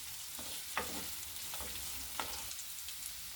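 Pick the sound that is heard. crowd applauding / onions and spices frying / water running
onions and spices frying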